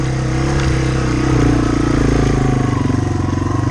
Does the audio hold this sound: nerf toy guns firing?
no